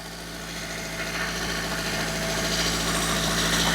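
A Maruti WagonR's engine idles close by, a steady low hum with a rough vibrating edge that holds even and unbroken and grows slightly louder toward the end.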